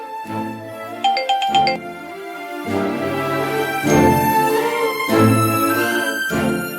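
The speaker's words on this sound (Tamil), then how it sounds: "அந்த போன் ரிங் ஆகுது, கொஞ்சம் எடுத்து கொடுத்துட்டு போயேன்." A mobile phone rings in a home scene from a Tamil TV serial, playing a loud, melodic ringtone of repeating chiming tones that continues steadily throughout without any talking.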